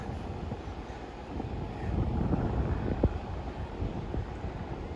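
Low rumbling gusts of wind at Coney Island Beach, New York City, buffet the microphone, a dull roar that swells and rises midway through.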